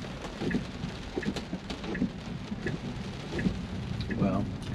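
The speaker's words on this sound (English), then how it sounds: "it's raining pretty hard." Heavy rain pours onto a Tesla driving in a storm, a dense, steady wash of drumming drops over the car with low rumbles, heard from inside the cabin.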